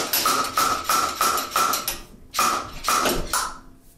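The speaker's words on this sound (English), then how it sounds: "install your slide hammer" A homemade slide hammer knocks repeatedly on a Generation-2 Mud Buddy transmission as it is being removed, giving five evenly spaced metallic impacts, a short pause, then three more, all loud and close with no talk.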